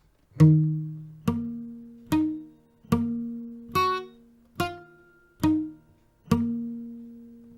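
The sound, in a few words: guitar picking a chord pattern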